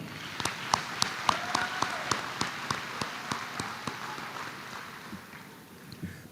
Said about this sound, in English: Let's give our Board of Education and our school administrators a round of applause.